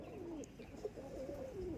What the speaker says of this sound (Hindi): ये प्योर मीराब कबूतर है इनका